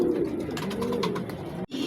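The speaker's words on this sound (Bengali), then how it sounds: "ভিউয়ার্স দেখতে পাচ্ছেন গ্রিজেল রেসার," Grizzle racer pigeons coo steadily at close range, soft rolling calls overlapping throughout with a brief drop near the end.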